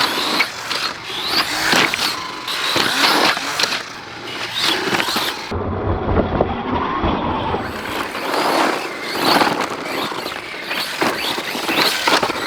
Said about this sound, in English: The truck just mobs through that, handles it no problem.